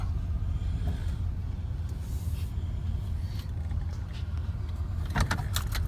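A used U-Haul truck backing up a driveway, a steady low engine rumble throughout with a few brief clinks and rattles near the end, no voices.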